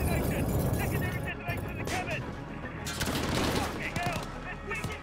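Gunfire and explosions from Call of Duty Modern Warfare come in loud clustered bursts of crackling shots and booms. Game audio muffles in places and rumbles underneath.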